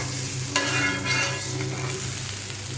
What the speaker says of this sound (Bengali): আর এদিকে শুধু চালটা ভালো করে ভাজা নিতেছি